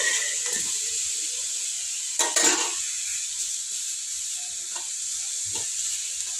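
Chopped onion sizzles steadily in a hot pan while brinjal chutney is prepared, with a spoon stirring and scraping against the pan partway through and soft clinks of cookware.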